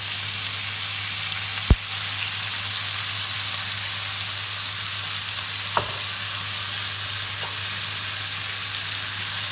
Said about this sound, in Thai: ผัดไปเรื่อยๆ จนกว่าหมูจะสุกเนาะค่ะเนาะ